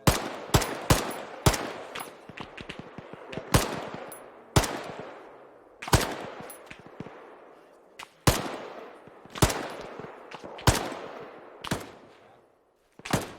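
Rifle and machine-gun fire in the military video game Arma 3 cracks out in sharp bursts and single shots, some near and loud, others quieter, with brief pauses between volleys.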